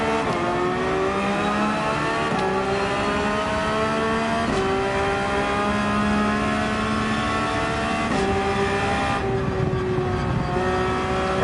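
A race car at Deep Forest in Gran Turismo 7, its engine note shifting through gear changes and braking, a loud continuous whine that drops and climbs again with no voices.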